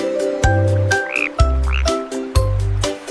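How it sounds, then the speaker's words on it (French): A frog croaking in loud, deep pulses, three distinct croaks with brief pauses between them, close and prominent over a faint watery background. "Une drôle de grenouille saute sur une bûche."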